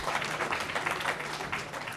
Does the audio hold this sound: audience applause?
yes